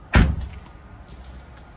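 An RV's side-opening underneath storage compartment door on a 2016 Renegade Vienna 25VMBS shuts with a single loud thud, followed by a faint lingering rattle.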